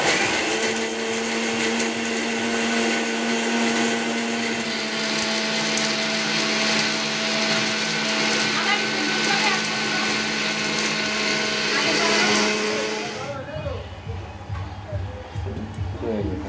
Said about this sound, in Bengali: ব্লেন্ডারে এটা গুঁড়ো করে নেব